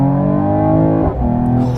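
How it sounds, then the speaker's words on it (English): Mercedes-AMG GT 43 launching hard from a standstill, its engine note climbing loudly and steadily with a brief dip as it shifts, then pulling again, heard close with no talk. "We'll try one out off the line on the gas."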